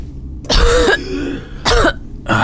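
A voice imitates characters coughing, giving three loud, close, harsh throat-clearing coughs separated by short pauses.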